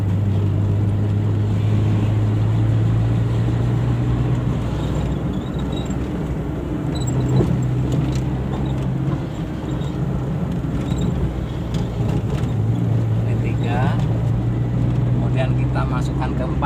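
A manual car's engine drones steadily while driving, its low pitch stepping up and dropping as the clutch is released, throttle applied and gears changed, under an instructor talking throughout.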